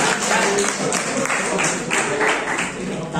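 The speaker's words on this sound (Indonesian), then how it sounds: "Tepuk tangan buat para pemenang dulu ya." An audience at a guest lecture on cloud computing and IoT applauds the winners, a steady wash of many hands clapping at once, held at an even level throughout.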